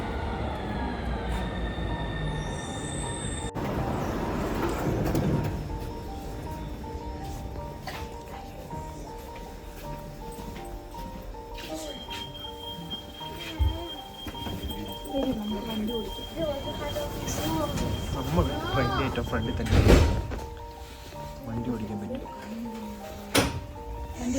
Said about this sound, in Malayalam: നമ്മുടെ ട്രെയിനിൻ്റെ ഓൾമോസ്റ്റ് എത്തി